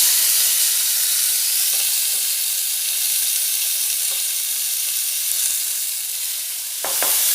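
Boiled, drained, chopped papaya fries in hot garlic oil with a loud, steady, close sizzle that continues throughout, with a few soft stirring scrapes near the end.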